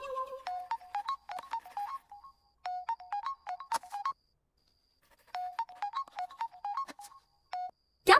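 A phone ringtone plays a repeating melodic pattern of short electronic tones in bursts with brief pauses, clear and fairly close, signalling an incoming call, with no one talking over it.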